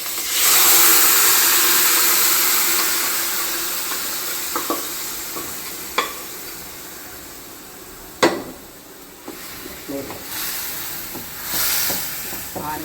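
Loud hissing sizzle as cooked mutton hits a hot pan of tempering spices, gradually settling, with scraping and clinking of a utensil stirring at intervals.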